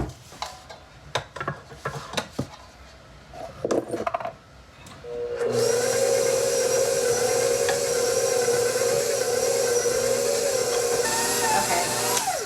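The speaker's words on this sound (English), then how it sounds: "now we're going to put this through the grinder" Meat grinder working through two pounds of sausage meat, a few clunks and knocks first, then a steady loud motor drone with a grinding whine that continues to the end.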